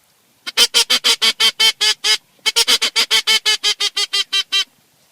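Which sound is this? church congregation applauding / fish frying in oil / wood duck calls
wood duck calls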